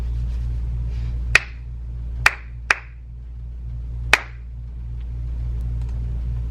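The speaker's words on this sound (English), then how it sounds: "I'm going to clap the rhythm of the one that you should pick in order to catch Pikachu" Hands clap a rhythm for a Pikachu guessing game in an online music lesson: four sharp, close claps in an uneven pattern, two quick ones in the middle, over a low steady hum.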